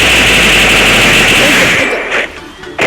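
Rapid automatic gunfire from the Free Fire video game blares loud and dense, then breaks off into a couple of shorter bursts near the end.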